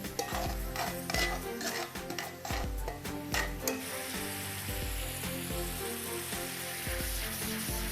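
Sauce reducing in a pan with butter being added, a steady close sizzle and bubbling, punctuated by a spoon stirring and clinking against the pan.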